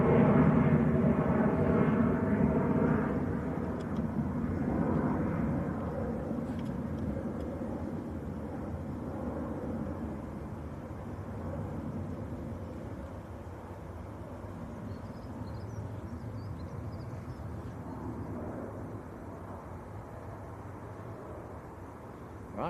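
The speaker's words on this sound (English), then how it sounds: "Emirates taxiing out" An Emirates airliner taxis at Manchester Airport, its engines a broad, steady rumbling roar heard from a distance, strongest at first and then easing to a lower, even drone.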